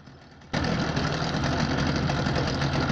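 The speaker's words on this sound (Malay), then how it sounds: "Biasanya bila dah cabut hose tu, enjin ni akan running dalam beberapa saat lagi lah." Yamaha Enduro 30HP two-stroke outboard engine running on after its fuel hose is pulled: a quiet lead-in, then an abrupt jump into a loud, steady, buzzing idle close by.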